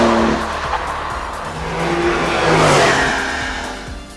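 A Porsche 911 Carrera 4S Cabriolet is driven in Sport mode, its engine note swelling and fading as it passes, with tire squeal and revving prominent and no talk over it.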